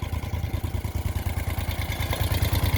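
A 1973 Moto Guzzi Eldorado motorcycle engine idles steadily nearby, with a regular low thumping beat and light mechanical clatter throughout.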